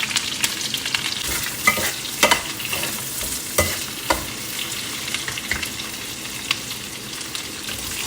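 Half an onion hits the hot oil left from frying chicken, giving a continuous close sizzle with scattered crackles and spatula scrapes throughout, no one speaking.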